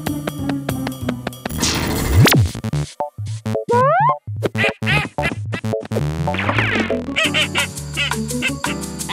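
Cartoon duck quacks in a children's animated show about watching plants, a run of loud, bouncy honking calls mixed with playful music and sound effects, no talking.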